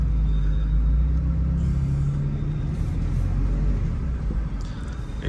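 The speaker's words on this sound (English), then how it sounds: "that noise is the crankcase vent valve that's under valve cover under here" A BMW M4 with an S55 engine and a ruptured crankcase vent valve under the valve cover, a loud continuous low rumbling drone with a steady tonal hum that swells slightly and keeps going without a break.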